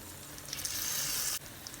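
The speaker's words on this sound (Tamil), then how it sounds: "சில்லி பேஸ்ட்டு சேர்த்ததுக்கப்புறம் எண்ணெயிலேயே ரெண்டு நிமிஷம் வந்து நான் வதக்கி விட்றேன்" Chilli paste sizzling as it is sautéed in hot oil for a prawn sambal, a short bright hiss that swells and then abruptly drops away, close and fairly quiet with no talking.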